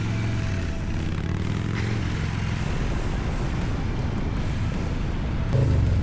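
A Harley-Davidson Low Rider S motorcycle accelerates hard, its engine a close, dense, continuous rumble mixed with wind noise and rising slightly in loudness at the end.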